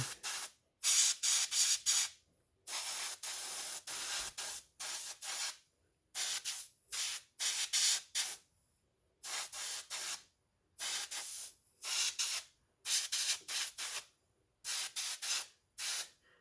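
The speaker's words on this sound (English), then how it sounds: "I've been painting pretty much all my life with airbrush." An airbrush sprays paint onto a model Freightliner dump truck in repeated short hissing bursts of a second or two each, separated by brief silences, close and fairly loud.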